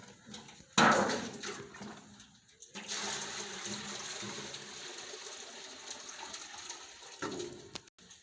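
Water running from an outdoor compound water system, a steady rushing flow after an initial splash, continuing at even strength with a few small knocks.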